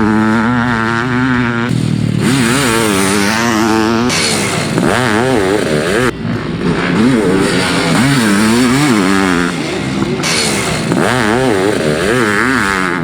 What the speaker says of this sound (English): We're getting our first chance to ride the KTM 500 Dark Knight project from Johny Weisman